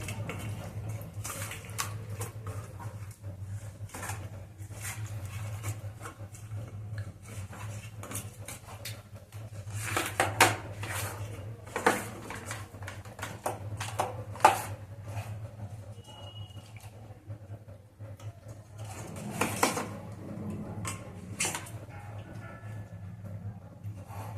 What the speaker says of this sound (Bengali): মাছটাকে আমি খুব ভালো করে মাখিয়ে নেবো